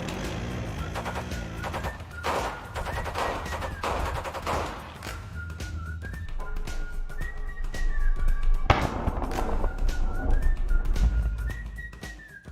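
Bursts of rapid gunfire on a navy warship, loud and repeated, mixed with whistling tones and shifting sounds over a dense, busy background.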